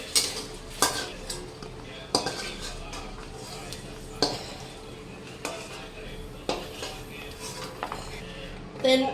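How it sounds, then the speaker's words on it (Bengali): Cashews and almonds fry in oil in a metal pan, with a faint sizzle under periodic clinks and scrapes of a spoon stirring against the pan. "একটু কাজু বাদাম আর আমন্ড বাদাম একটু ভেজে নিচ্ছি।"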